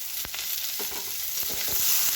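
Onions sizzle softly in hot oil for upma, a low steady frying hiss broken by a few faint stirring clicks.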